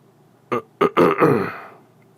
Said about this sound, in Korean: 헛기침을 하는 아버님